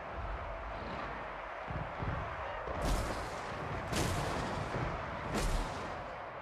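Heavy booming Dwarf flame cannon blasts in Total War: Warhammer 2, three distinct shots a second or so apart, over a constant rumbling, windy battle noise.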